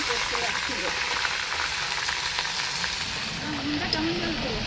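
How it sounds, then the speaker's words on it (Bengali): Spinach and taro pieces going into a hot pan and frying, a steady dense sizzle with faint crackles throughout, close and continuous with no talk. "পালং শাক আর গাটি কচুটা ধুয়ে রেখেছিলাম দিয়ে দিচ্ছি"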